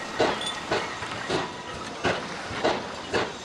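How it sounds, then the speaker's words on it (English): Train wheels clatter and slip on wet rails, with a hiss and repeated rhythmic thumps about every half second, close and fairly loud. "His wheels slipped on the wet rails outside, and he struggled to keep the train in motion."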